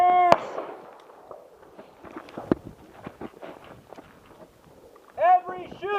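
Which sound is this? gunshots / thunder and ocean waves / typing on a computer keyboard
gunshots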